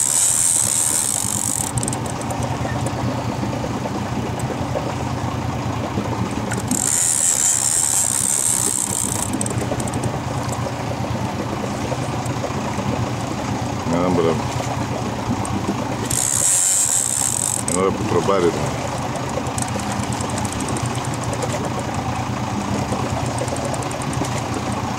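A fishing boat's engine idles steadily at sea for the whole stretch, a continuous low, even rumble with a faint higher hiss that swells in a few short bursts.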